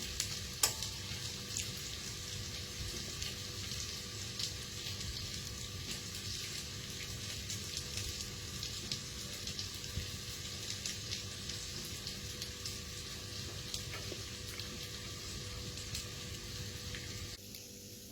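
A piece of coconut shell is lit and burns steadily into glowing embers in a home kitchen while preparing tandoori chicken, giving a continuous close crackling sizzle with scattered small pops and no talk.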